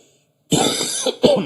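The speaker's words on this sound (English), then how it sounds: "Still have a cough." A brief silence, then two harsh, close coughs in quick succession, the first longer and raspy, the second short and sharp.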